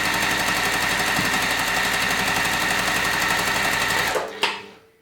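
A sewing machine stitches quilt pieces at a fast, even pulsing whir, close and loud, then slows and stops near the end with a clunk.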